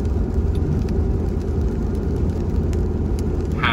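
A 2022 Toyota Tundra on 33-inch Yokohama Geolandar mud tires cruises down a highway in pouring rain, giving a steady, close engine and road rumble with a constant wet tire hiss and no talk.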